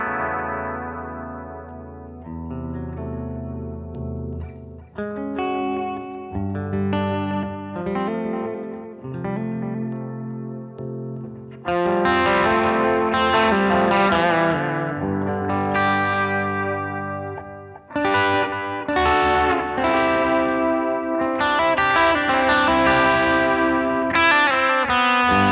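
Electric guitar through a delay pedal, playing melodic lines with repeating echoes; quieter, sparser picking gives way midway to louder, denser distorted chords and runs, with no talk.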